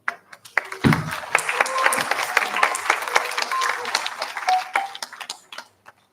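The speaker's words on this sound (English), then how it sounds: "let's give a huge round of applause again for all the chamber groups that performed earlier and Ming Yi for leading the organization of" An audience applauds chamber groups at a game music ensemble showcase, a burst of clapping that swells and then fades out over several seconds, close and lively.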